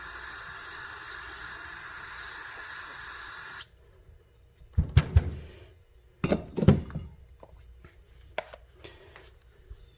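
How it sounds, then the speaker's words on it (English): A steady hiss of aerosol carburetor cleaner sprayed into a Troy-Bilt TB42 lawn mower runs for a few seconds, then cuts off, followed by scattered knocks and clunks. "get some carburetor cleaner. We're just gonna lightly spray in there."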